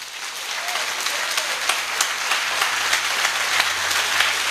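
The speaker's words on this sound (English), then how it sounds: "If you have two hands, lift them up and clap for Jesus." A church congregation claps together in praise, a dense, continuous burst of hand claps filling the room at steady loudness for several seconds, with no speech over it.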